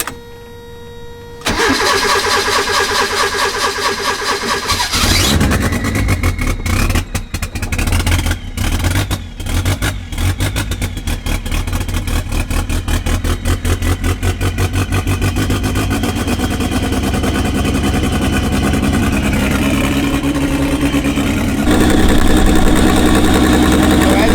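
A car engine cranks and catches, then roars into a loud, rough idle with a few revs, rumbling steadily close by; the car has a faulty TPS sensor.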